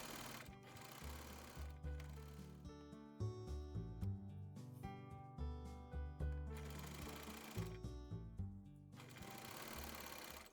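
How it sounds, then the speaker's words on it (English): A sewing machine fitted with a knit foot stitches PUL fabric for a drawstring bag, its rapid motorized stitching running in close, steady spells with a few short stops and restarts. "To sew the PUL layer, I'm using a knit foot."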